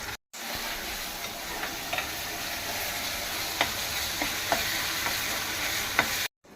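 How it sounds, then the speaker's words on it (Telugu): Onion and ginger paste sizzling in a pan, a constant close hiss with a few faint scraping stirs, no voices. "ఇది వేగింది ఉల్లిపాయ అల్లం పేస్ట్ వేగింది"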